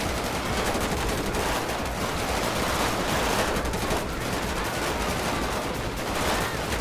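GTA 5 police-mod gunfight with SWAT officers: dense, continuous automatic gunfire, loud and unbroken, with overlapping shots and no pauses.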